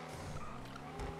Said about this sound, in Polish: Auto robi brum brum.